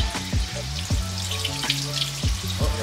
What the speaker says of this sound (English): just doing a quick rinse